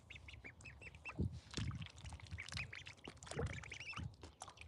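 Ducklings quacking outdoors by a homestead stream, a busy overlapping chorus of short calls and peeps at moderate distance, continuous with no talking.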